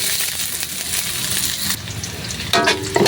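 Ginger, onion and garlic fry in hot oil in a pan, a loud, close, continuous sizzle with a brief scrape of stirring near the end and no talking.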